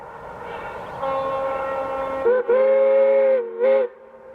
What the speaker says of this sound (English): the train greets a truck on the highway with a whistle of its own.